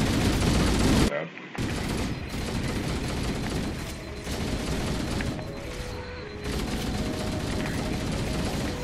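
Gunfire from the Halo video game, with dense, continuous shots and bursts that sit loud and near throughout, broken by one brief gap and a few quieter dips.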